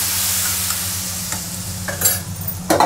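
Hot oil tempered with Kashmiri red chili powder poured into a black chickpea curry, a steady soft sizzle building to a sharp, loud hiss and splutter near the end.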